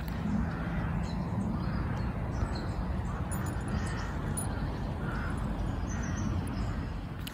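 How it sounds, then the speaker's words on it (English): Rooks cawing from tall trees on a UK morning, a steady chorus of harsh calls spread over a broad outdoor background hum, continuous throughout without speech. "The rooks are loudest this morning."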